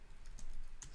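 Short burst of typing on a computer keyboard, a few quick key clicks close and fairly quiet, with no talking.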